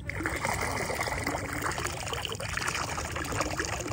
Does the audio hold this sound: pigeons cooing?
no